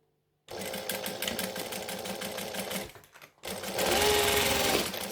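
A sewing machine stitches the side seam of a fabric pouch in steady rapid bursts, close and loud with no talk, pausing briefly before a second stretch of stitching.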